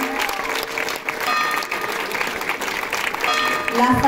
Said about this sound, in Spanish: Un aplauso grande para él.